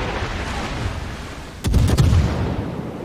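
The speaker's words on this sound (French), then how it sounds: "il tire dans la smoke" Naval guns fire into a smoke screen in the World of Warships game: after a steady background drone, a sudden heavy volley of booms breaks in, several quick blasts rolling together at close range.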